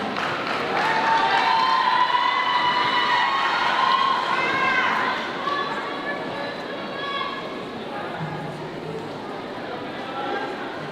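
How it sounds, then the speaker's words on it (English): An audience at a Tahitian ori dance exhibition applauds and cheers young dancers aged five to seven, a sustained crowd roar of clapping and children's shouts that eases after a few seconds and continues under talk. "Give them a big round of applause."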